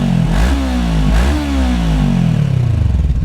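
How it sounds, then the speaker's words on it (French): Voge 500DS adventure motorcycle exhaust running close by, with a steady engine note and two quick blips of revs before it drops back to a rumbling idle, no voices. "on va écouter un peu le bruit du pot avant de l'éteindre"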